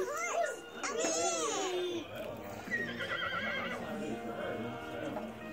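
A horse whinnies with a wavering, rising-and-falling cry in the first two seconds, then people talk over fainter sounds in a domestic setting.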